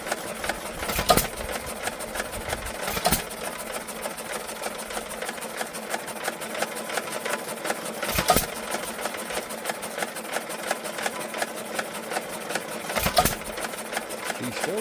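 An Amanco stationary engine with a repaired ignitor and new mica washers runs on steadily with a fast, even mechanical clatter, broken by a few louder firing thumps spaced several seconds apart as it finds the last of its fuel.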